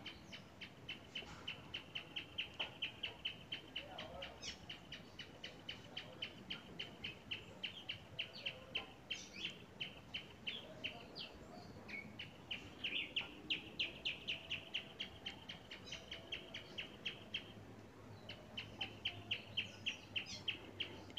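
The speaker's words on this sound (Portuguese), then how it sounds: "Eu amo o som dos pássaros cantando." Birds sing steadily on a grey day threatening rain, with rapid repeated chirps and trills rising and falling throughout at moderate distance, over a soft ambient background with no talking.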